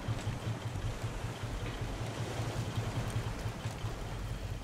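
Raft engines running forward on water in the survival video game Raft: a steady low rhythmic engine chug beneath a continuous wash of waves and wind, with no voices.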